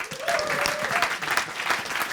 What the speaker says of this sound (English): Give Tom a round of applause.